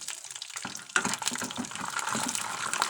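Raw peanuts dropped into heated oil for a chutney set off a sudden, loud, crackling sizzle that continues steadily and densely close by.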